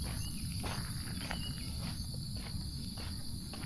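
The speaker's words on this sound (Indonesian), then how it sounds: "suara jangkrik" Crickets chirp steadily in a quiet morning outdoors, a continuous high shrill trill with soft rhythmic pulses and faint movement underneath, no talking.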